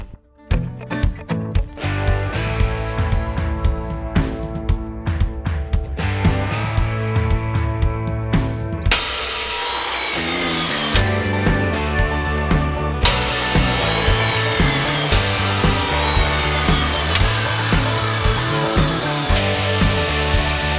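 Metal tubing for a custom shifter pivot being cut by a power tool, a loud continuous whining saw tone with rhythmic pulses as the blade bites, shifting pitch partway through.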